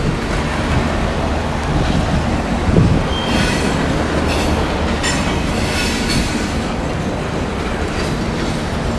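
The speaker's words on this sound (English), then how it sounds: "Down here to the train platform." A train rumbles and clatters along a platform at Union Station in downtown Little Rock, loud and continuous, with brief metallic squeals and clicking wheels throughout.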